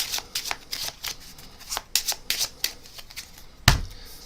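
Playing cards shuffled by hand during a card trick, a run of quick riffling bursts and soft slides with a sharper snap near the end, close up and alone.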